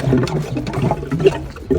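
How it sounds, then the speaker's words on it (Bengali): Water from a hand pump gushes and splashes in short uneven surges, close by, with the rhythm of pumping. "সত্যি তো পানি বেরোচ্ছে"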